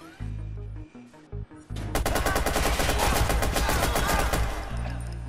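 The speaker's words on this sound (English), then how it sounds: "I love the shooting from the guns from the security cameras" Security camera guns firing in Watch Dogs DLC, a loud sustained burst of rapid automatic gunfire following a few short electronic tones, close and dominant.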